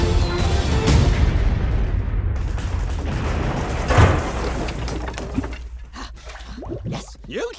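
A battleship blown up in a game of Battleship, a loud booming explosion with crashing, shattering debris that rumbles and fades, followed by quieter noises as voices speak briefly.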